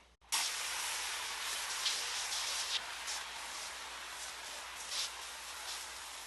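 After a brief click, a battery-powered foam sprayer, a Fanttik X8 inflator with IK Foam Pro, hisses steadily and close, a continuous airy spray with slight surges in strength.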